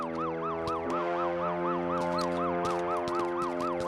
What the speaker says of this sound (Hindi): एम्बुलेंस आई है